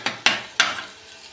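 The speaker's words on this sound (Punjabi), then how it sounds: "ਫਿਰ ਮੈਂ ਸੋਚਿਆ ਚਲੋ ਕੱਲੇ ਪਿਆਜ਼ਾਂ ਦੇ ਲਾ ਲੈਣੇ ਤੜਕਾ" Onion tadka in a pan for moong dal, heard as three sharp scraping strokes of a ladle over a soft frying sizzle, close and alone with no talk.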